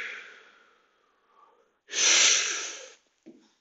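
Deep breath drawn and exhaled during a workout stretch, a soft breathy intake followed by a loud, rushing exhale up close, with a brief quieter breath trailing after.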